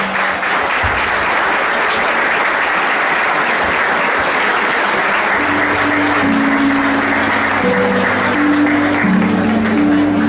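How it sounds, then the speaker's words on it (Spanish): Applause from the crowd at a village fiesta coronation ceremony for the queen and her ladies in El Picazo, 2011: loud, continuous clapping, with sustained musical tones coming in about halfway and playing under it. "Fuerte aplauso."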